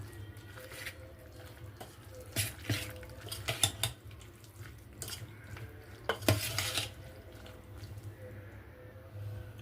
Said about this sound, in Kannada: ಇದನ್ನೆಲ್ಲ ಮಿಕ್ಸ್ ಮಾಡ್ಕೊಳ್ಳೋಣ.